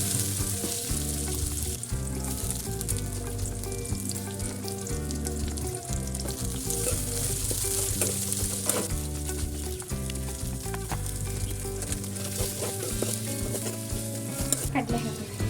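Garlic frying in a heated pan makes a continuous bright sizzle, with stirring sounds, beneath loud background music that runs throughout.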